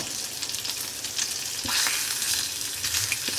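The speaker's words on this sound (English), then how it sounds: "Cooking my bacon, then I'll crack my egg in." Bacon sizzles and crackles in a frying pan, a steady hiss with scattered pops and occasional stirring scrapes, close and moderately quiet, with no voices.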